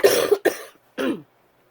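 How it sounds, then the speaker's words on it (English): Two quick, close coughs from a person, then a third shorter cough after a brief pause, each sharp and loud against silence. "See, that little cough is nothing compared to what it was."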